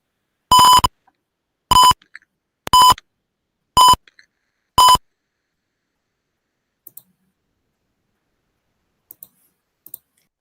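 An MQ-2 gas leak warning system's buzzer sounds five short, loud, bright electronic beeps at roughly one-second intervals, followed by faint clicks and quiet.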